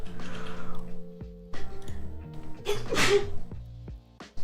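A single sneeze bursts out near the middle over a quiet room with faint hum and light background noise, close and fairly loud, followed by silence.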